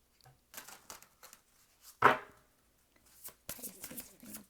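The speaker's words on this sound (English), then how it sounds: "One more shuffle." Tarot cards are shuffled by hand in soft, irregular riffling bursts, quiet and close, with one sharper snap of cards partway through.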